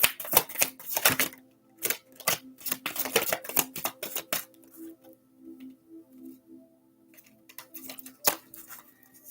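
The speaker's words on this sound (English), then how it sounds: "when you get like a new deck, you really got to shuffle them" A new deck of cards is shuffled in crisp, rapid riffles and snaps, loud and close, with bursts of ruffling followed by softer handling and one sharp final snap.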